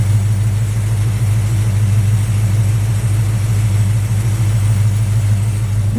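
A Plymouth Duster engine idles just under 800 RPM with a steady, even low rumble that stays close and constant, with no voices.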